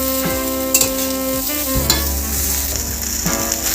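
Vegetables for shukto, including drumstick, sautéing in a pan, a steady hiss of frying oil with repeated scrapes and clinks of a spatula stirring, close and continuous without speech.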